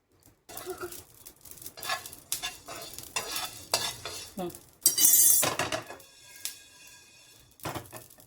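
Coriander seeds dry-roasting in a pan, stirred in bursts with a spoon scraping and clinking against the metal, with light crackling between strokes, close and moderately loud, and no talking.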